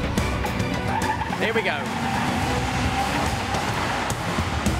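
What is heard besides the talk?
racing car wheel spin and engine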